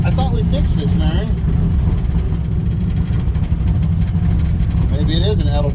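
A 1964 Chevy Suburban's engine drones steadily under load while driving, a loud low rumble running throughout, with people talking over it.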